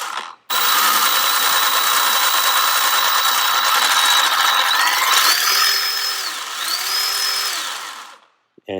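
Milwaukee M12 Hatchet 6-inch battery chainsaw running loud and close, a high whining motor with chain rattle that dips in speed twice as the variable trigger eases, then cuts off.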